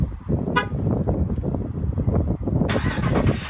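A 2017 Ram 1500 Sport Crew Cab 4x4 pickup starts up: a brief tonal chirp, then after a pause the engine catches with a loud, broad roar that carries on steadily to the end.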